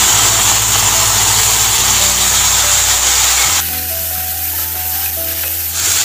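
Tomatoes and curry leaves going into a hot pan for a tomato curry, a loud, continuous close sizzle of frying that drops slightly partway through, with no talking.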